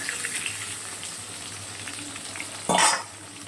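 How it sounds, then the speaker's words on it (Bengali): Potato pieces frying in oil in a pan after fish, a steady low sizzle with one brief louder burst of hissing near the end, close by with no talking. "মাছটা ভেজে তুলে নিয়েছি, এখন আলুটা ভেজে নেবো।"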